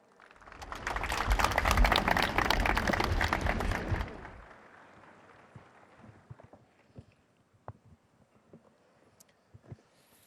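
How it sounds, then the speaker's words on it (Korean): Loud applause from a crowd at a Korean National Police Day ceremony, welcoming two presenters to the stage; it builds quickly, holds strong for about three seconds, then cuts off, leaving faint scattered claps and room noise. "큰 박수와 함께 모시겠습니다."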